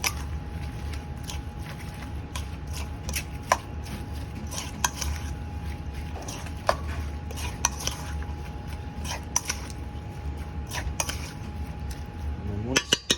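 Onion bhaji batter is mixed in a bowl, with scattered light clinks and scrapes of a utensil against the bowl over a low, steady background hum.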